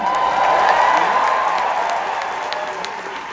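Convention crowd at the D23 Expo applauding and cheering a guest on stage, a loud wash of clapping with whoops at the start, slowly tapering off over a few seconds.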